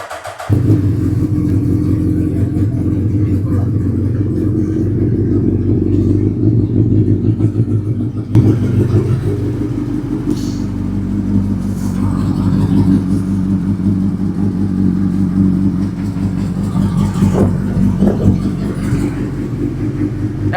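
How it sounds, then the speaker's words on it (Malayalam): A 2010 Suzuki Hayabusa motorcycle engine runs after a cold start, a loud, close, continuous low rumble that holds steady with slight rises in pitch and a faint voice underneath. "അപ്പൊ നമുക്ക് വണ്ടിയുടെ സൗണ്ട് ഒന്ന് കേൾക്കാം കോൾ സ്റ്റാർട്ട് ആയിരിക്കും"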